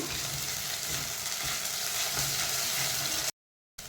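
Onion and ginger garlic paste sizzle in a pan for an egg and field bean gravy, a steady close frying hiss that cuts out briefly near the end.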